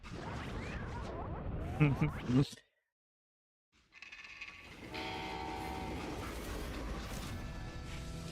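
Steam freight train in Call of Juarez Gunslinger, a loud rumbling clatter that cuts out to near silence for about a second, then returns with sustained whistle-like tones over the rolling noise, with a voice likely mixed in.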